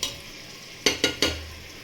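Chopped onions for vegetable pulao fry in a pan, a low sizzle broken by three sharp stirring scrapes in quick succession near the end.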